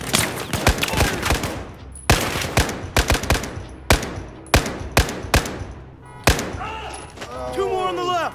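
Heavy bursts of rifle and machine-gun fire from a Battlefield 4 firefight ring out in repeated loud volleys with short gaps, joined near the end by faint background voices.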